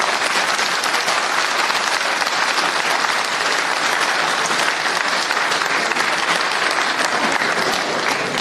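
An audience at a public gathering applauds loudly and without a break, a dense wash of clapping that holds at an even level from start to finish.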